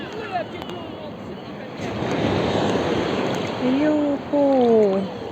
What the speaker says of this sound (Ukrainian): так класно хвилі йдуть